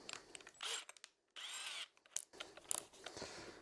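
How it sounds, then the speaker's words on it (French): A power drill bores holes into a homemade jig knob, with several short whirring bursts separated by pauses and small mechanical clicks, quiet and close. "Et je vais venir maintenant percer sur les marques que je viens de faire."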